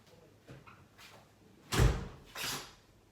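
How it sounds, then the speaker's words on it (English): An indoor door is shut by someone stepping away, giving a few faint preliminary clicks and then two firm thuds close by: a loud bang followed by a softer knock, with no talking. "I'm going to go get up real quick and close the door"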